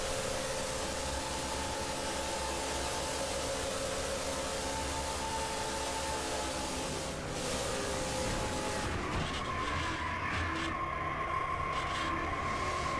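Onboard engine of the number 48 race car at Daytona in a racing video game, a steady sustained roar throughout, loud and continuous with no talk.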